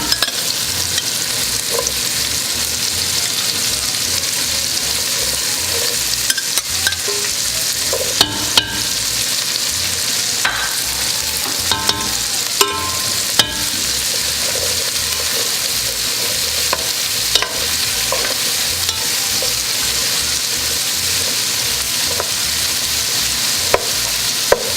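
Onion frying with rendered sausage in a pan, a constant loud sizzle broken by scattered clicks and scrapes of a spoon stirring, with no voices.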